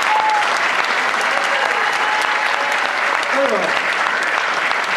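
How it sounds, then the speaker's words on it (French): Loud, dense applause from the audience at a trophy ceremony honours young football champions, steady and sustained throughout, with faint voices calling out beneath the clapping. "je crois qu'on peut les applaudir très très très fort."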